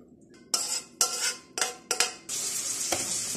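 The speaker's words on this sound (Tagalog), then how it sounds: "Luto ko ng pancit canton." Pancit canton noodles cooking in a pan: a utensil clanks and scrapes against metal in a few loud, uneven strokes, then a steady sizzle of frying takes over near the mic.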